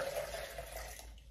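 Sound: water poured into a serving jug

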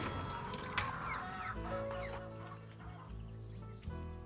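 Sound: chickens clucking at a chicken coop in the Nancy Drew video game

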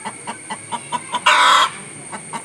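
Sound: rooster clucking and crowing

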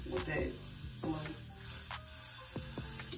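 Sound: spray bottle spraying water on a wig hairline

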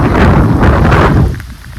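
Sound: heavy rain

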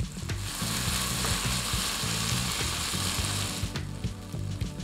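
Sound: stirring rice with fish sauce, palm sugar and MSG in pot

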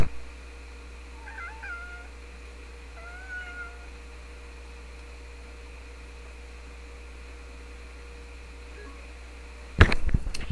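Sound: cat meowing

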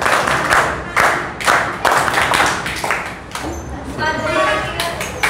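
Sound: audience clapping to welcome a quiz winner

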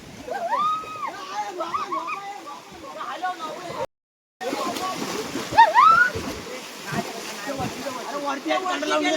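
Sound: water splashing in a village river while fishing

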